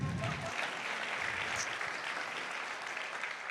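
Audience applause at an author talk with a poet and theologian, a steady dense wash of clapping held throughout, loud and close with no talk over it.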